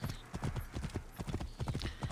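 Horse hooves clip-clopping in the video game Assassin's Creed Origins, a rapid irregular string of close, fairly soft hoof strikes with faint background sounds and no clear talk.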